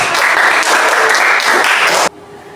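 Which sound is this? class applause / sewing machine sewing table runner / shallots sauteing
class applause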